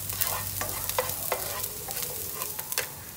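Garlic sautéing in a hot pan for a spaghetti sauce, with a steady close sizzle and frequent scraping, clicking stirs of a utensil against the pan, no voices.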